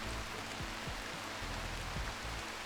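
Rain falls in the video game RimWorld as a steady soft hiss. Low, pulsing background music plays under it.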